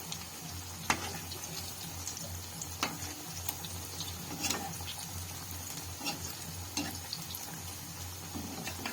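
Cabbage pakoras frying in hot oil, a steady quiet sizzle running throughout with occasional soft clicks and taps from the pan, no voices.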